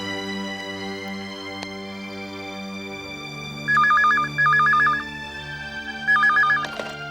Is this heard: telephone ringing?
yes